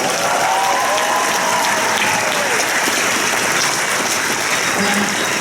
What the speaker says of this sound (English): let's give him a big round of applause for Warwick Davis, please.